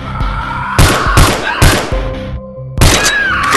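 Gunfire in Dead in the Box, fired at zombies: a handful of loud, punchy shots go off close in uneven bursts over busy game sounds.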